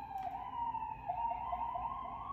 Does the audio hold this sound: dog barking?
no